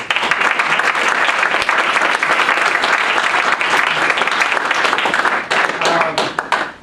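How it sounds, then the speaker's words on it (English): Dense, steady applause from an audience at a healthcare administration society meeting, loud and continuous for several seconds before thinning slightly near the end. "let's just give them an applause"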